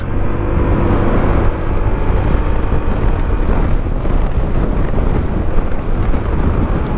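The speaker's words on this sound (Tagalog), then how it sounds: "lakas ng hangin" Loud, constant roar of strong wind buffeting the microphone while riding a Honda ADV 160 scooter in Manila, heavy low rumble throughout with no pauses.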